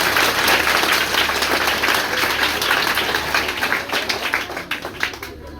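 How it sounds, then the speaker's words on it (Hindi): A crowd of schoolchildren and guests at an education foundation event bursts into loud, dense applause that holds steady, then thins into scattered claps as it dies away. "इस बात पे ताली होनी चाहिए।"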